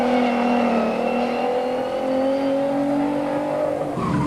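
An Alfa Romeo GTV rally car drives past with a loud, steady engine note whose pitch climbs gradually as it accelerates, with no talk.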